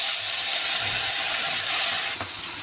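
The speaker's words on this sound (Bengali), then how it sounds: "এখন আমি মাছগুলি সুন্দরভাবে ভেজে নেব হালকা করে।" Fish fry in hot oil in a wok, a steady loud hiss of sizzling that runs unbroken for a couple of seconds before dropping slightly in level.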